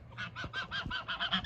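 Farm geese honking loudly and close by, a run of about nine repeated nasal honks in a steady rhythm, with a little faint background noise.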